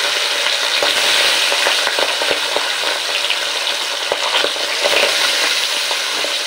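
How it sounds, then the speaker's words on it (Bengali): Pabda and shingi fish frying in hot oil, giving a steady, close sizzle and crackle with scattered sharp pops and spatters throughout, no voices. "ওই মাছ খুব বেশি ভাজার দরকার নেই, আর ঢাকা ঢাকা দিয়েই ভাজতে হয়, কেননা একটু ফোটে।"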